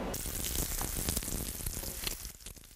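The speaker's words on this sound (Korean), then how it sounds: "지글거리는 소리와 함께 노릇하게 익어가는 전이 보기만 해도 먹음직스럽습니다" Loud, continuous sizzling and crackling of Korean jeon pancakes frying in a hot pan for Chuseok, close up, with no talking.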